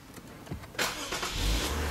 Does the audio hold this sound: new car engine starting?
yes